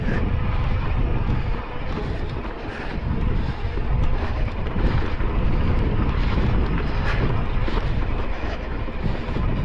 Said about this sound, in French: Ah, il y a un peu de vent là.